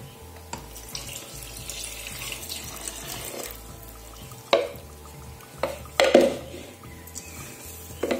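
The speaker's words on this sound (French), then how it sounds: "je verse l'eau avec la levure" Water with yeast is poured into a bowl, making a soft running splash under steady background hum, with brief louder splashy bursts near the middle and toward the end.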